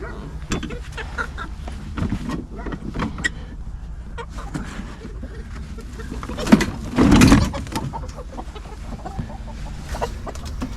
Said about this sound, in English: I probably got 60 pounds of birds in here.